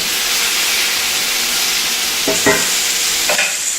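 Vegetables for salsa sizzling and charring in a hot pan, a steady broadband hiss throughout with a few brief sharper crackles and spatters near the end, close and fairly loud, no voices.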